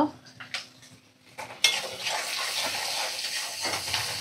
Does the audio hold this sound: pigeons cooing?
no